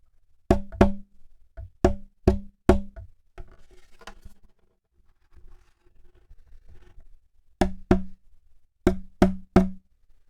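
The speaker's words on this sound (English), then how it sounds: "here's the sound of the body resonance of the Pickapick ukulele" A Pickapick UC23 concert ukulele body tapped with a finger, crisp ringing knocks in short bursts at the start and end, close and distinct, separated by a long quiet stretch of faint handling rustle.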